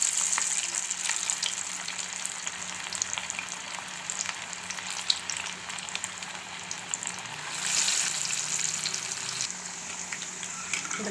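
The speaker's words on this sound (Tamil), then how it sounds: "இந்த மாதிரி தட்டி போட்டுக்கோங்க வடையை." Banana flower vadai frying in oil over a low flame, a dense continuous bubbling sizzle, close and steady throughout with a few faint clicks and no voices.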